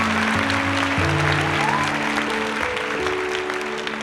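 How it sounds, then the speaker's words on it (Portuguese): Audience applause in a theater scene, several people clapping at once for a few seconds, moderately loud with a sustained tonal hum running underneath. "várias pessoas aplaudiram"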